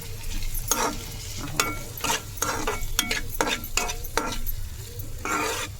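Curry leaves and turmeric roasting in a pan: a steady sizzle under a low hum, broken by frequent sharp scraping strokes of a spoon, with no talk.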